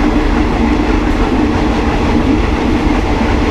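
Steady rumbling of a train crossing the River Kwai Bridge in Kanchanaburi, Thailand, with a continuous low roar and faint rhythmic clatter of wheels, loud and close throughout, no voices.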